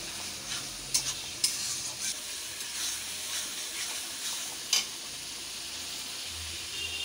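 Turmeric paste stirred and fried in a pan, a steady soft sizzle and hiss with a few sharp scrapes of the spoon, close and fairly quiet.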